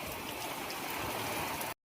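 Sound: flooded river water flowing

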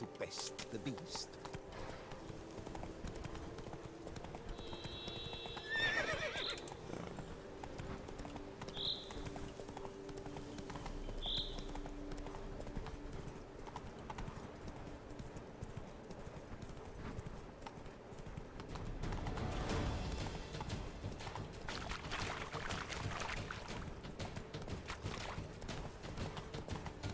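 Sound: horse Roach galloping in video game The Witcher 3

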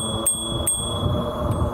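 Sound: bell ringing on an Ariel Rider Kepler e-bike

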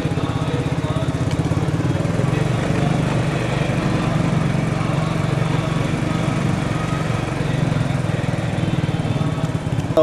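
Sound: motorcycle engine running

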